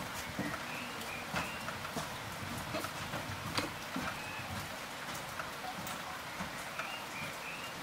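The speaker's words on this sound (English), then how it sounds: "our road-weary bones are soothed by the sounds of an afternoon rain washing down the roof tiles" Afternoon rain runs down roof tiles in a steady, fairly faint patter, with scattered louder drips and taps over a soft continuous wash.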